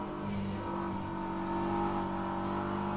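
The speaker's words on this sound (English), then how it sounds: "I hope you guys can hear the car." A race car engine in the racing game rFactor 2 drones steadily at high revs during an endurance race at Road America, a continuous buzzing whine with slight shifts in pitch.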